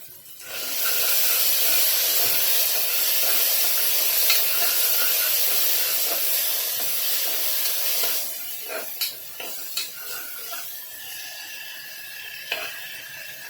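Tomatoes with salt roasting in a hot pan give a loud, steady sizzle and hiss, easing later into quieter frying broken by a few scrapes and stirs.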